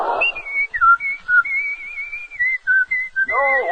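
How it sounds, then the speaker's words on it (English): A man whistles a bright, wavering tune in a 1950s radio advertisement for a 1957 Oldsmobile dealer, heard clear and close as a run of sliding, held notes with short gaps between phrases and no talk. "No wonder he's whistling."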